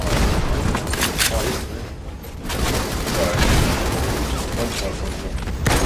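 Dense, continuous gunfire from Halo 2: Anniversary on the Lockdown map in team slayer, with overlapping shots and booms filling the whole stretch at steady high loudness.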